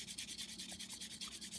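A revolver's wooden stock being hand sanded with 500 grit paper, heard up close as a soft, even rasp in quick back-and-forth strokes with no pauses.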